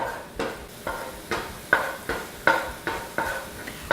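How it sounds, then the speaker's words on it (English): Minced ginger and garlic sautéing in oil, with a steady sizzle broken by a regular run of about ten sharp scraping stirs or pan knocks, close and fairly loud. "I'm gonna give that a quick little saute here"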